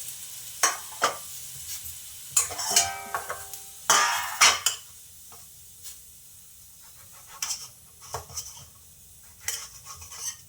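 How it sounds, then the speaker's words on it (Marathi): Green chillies roasting in a pan at home, with scattered clinks and scrapes of a utensil stirring and light sizzling bursts, fairly close and intermittent with quiet gaps, no talking. "मिरच्या आता भाजून घेते."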